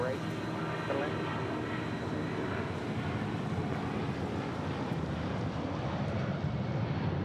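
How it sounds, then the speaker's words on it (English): A Boeing 757 airliner at Phoenix Sky Harbor airport roars steadily with broad jet engine rumble and wind noise, loud and continuous throughout. "let's start your morning with the 757"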